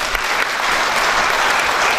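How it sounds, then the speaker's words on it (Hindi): A lecture audience breaks into loud, sustained applause, a thick wash of many hands clapping close by without a break. "जोर से तालियां बजाइए"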